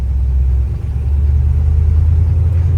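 A 1966 Chevrolet Chevelle SS 396 V8, a factory black car, idles with a deep, steady low rumble close by, holding even throughout with a brief dip partway through and no voices.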